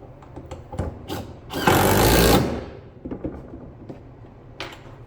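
A power driver drives screws into the wood of a miter saw station, with a loud, sustained buzzing whir in the middle, framed by short bursts and scattered knocks and clatter from handling close by.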